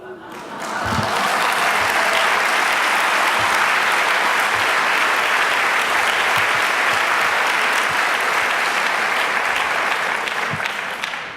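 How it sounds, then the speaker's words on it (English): Conference audience applauding, a dense, loud wash of clapping that swells in within the first second and holds steady for about ten seconds before easing slightly. "That applause is for you because you're getting the children right."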